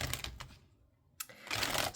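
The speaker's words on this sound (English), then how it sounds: "So I'll stop shuffling here." Crisp papery riffling of tarot cards being shuffled in two bursts, separated by a brief quiet gap, close and fairly soft.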